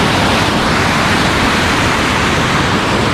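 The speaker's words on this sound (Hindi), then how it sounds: "घाघी झरना।" Ghaghi waterfall near Ambikapur, Chhattisgarh, roars as a steady, loud, broadband wash of falling water, close and unbroken throughout with no voices.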